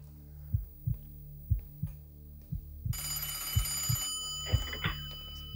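A telephone rings for an incoming call on a phone-in programme: low rhythmic thumps, then a bright electronic ringing tone enters midway and continues, with no talking.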